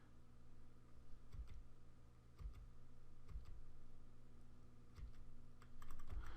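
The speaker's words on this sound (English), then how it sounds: "I'm using the down arrow key." Soft, sparse clicks of the down arrow key pressed one at a time at an irregular pace, with a short quick flurry near the end over a low steady hum.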